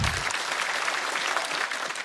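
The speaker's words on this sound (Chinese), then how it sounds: "再次掌声送给 Echo。" Studio audience at a Chinese stand-up comedy show breaks into sustained applause for a performer, a dense, even wash of clapping lasting about two seconds with no speech.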